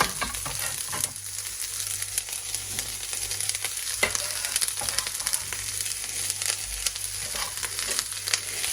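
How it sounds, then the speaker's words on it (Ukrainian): Young potatoes with green onion sizzle steadily in a frying pan while being stirred, a continuous bright crackle with occasional scrape accents, moderately loud and close, with no voices. "Так, перемішуємо, закладаємо цибульку зелену теж"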